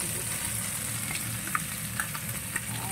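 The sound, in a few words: fish frying in sizzling oil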